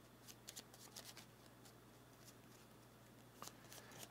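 Cards for the Tawantinsuyu board game are shuffled in short soft riffling bursts, faint and close, with quiet gaps between, then a louder handling clatter at the end.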